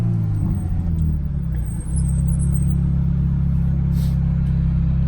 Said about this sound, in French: C'est l'un des plus beaux sons Ferrari pour moi, si ce n'est le meilleur.